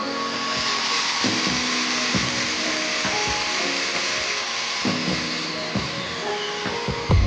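A graver is held against a spinning polishing wheel for a mirror polish, giving a steady close motor whine with broad grinding hiss and a few soft knocks throughout, no talking.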